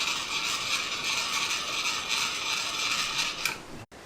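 Manual milling machine table traversing along its X-axis while squaring stock, a steady mechanical whir with faint gear and ratchet creaking running continuously, ending in a brief stop near the end.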